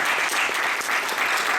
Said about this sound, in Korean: 여러분과 함께 큰 박수로 패널 토의를 시작하겠습니다